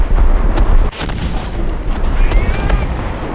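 A heavy boom from a tank cannon firing a shell in War Thunder, one loud blast followed by rumbling battlefield noise and further distant thuds.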